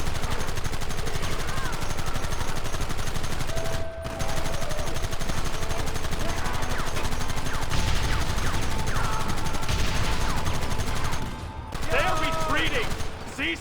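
Gunfire in Red Dead Redemption, a sustained western firefight of repeated shots and bursts, loud and dense throughout, with shouting voices and game music mixed in.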